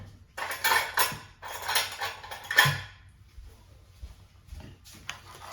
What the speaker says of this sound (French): Alors je mélange bien l'eau avec les graines.